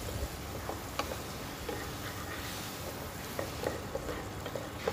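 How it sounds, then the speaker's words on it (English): Garlic fries in melted butter in a pan and is stirred, giving a soft, even sizzle dotted with light spoon taps, fairly quiet and without talk. "stir the garlic"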